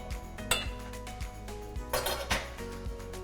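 Spoon scraping strained potato off the back of a metal strainer for pomme purée, a run of light metallic scrapes and clinks with a few sharper knocks, close and alone.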